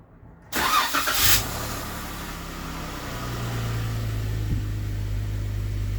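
A car engine cranks and fires after an oil change, the oil system primed beforehand to avoid a dry start, then settles into a steady, close idle hum that continues to the end.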